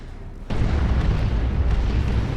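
Tank Buster Barrage explosions from Dawn of War 2: Retribution burst in abruptly after half a second, becoming a loud, continuous rumbling roar of overlapping booms that fills the rest of the clip.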